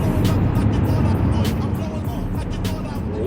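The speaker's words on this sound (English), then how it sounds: "We are currently in the truck driving to another retail store." A truck driving on the road to a retail store, heard from inside the cab as a steady, loud low rumble of engine and road noise that continues throughout.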